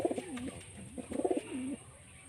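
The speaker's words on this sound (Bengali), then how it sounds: "এই যে মুর্শিদাবাদের লাইনের পায়রা" A Murshidabad line homing pigeon coos close by in two soft, throaty rolling phrases separated by a short pause.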